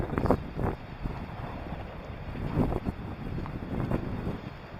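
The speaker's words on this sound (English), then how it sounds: "It is windy." Strong wind gusting across the Northern Ireland coastline, a steady broadband roar buffeting the microphone with surges and lulls throughout, no voices.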